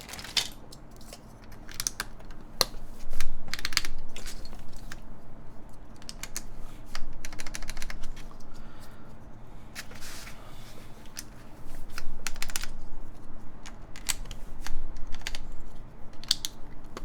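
Rapid clicky typing on a Matrix 8XV3.0 mechanical keyboard, backspace key included, with bursts of sharp keystrokes coming in uneven rhythmic runs close up, without speech.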